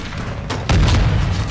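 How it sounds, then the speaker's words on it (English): A single heavy mortar strike explosion in a Call of Duty match lands with a sudden deep boom partway through, swelling into a loud rumbling blast that lingers to the end. "Hostile mortar strike incoming."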